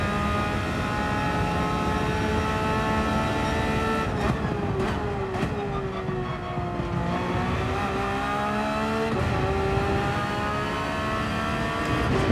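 A race car accelerates hard around the Interlagos circuit in Gran Turismo 7, its engine note climbing steadily and dipping at each gear change, loud and continuous with a faint tire squeal underneath.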